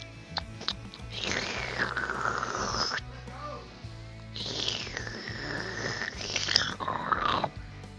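Close, wet slurping noises come in two long, loud bursts separated by a short pause, with voices heard faintly in the background.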